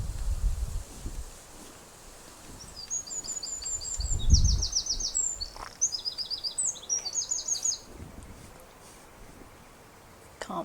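Small birds sing outdoors in a garden, bright chirping phrases repeating over several seconds against a soft rustling background with occasional low thumps.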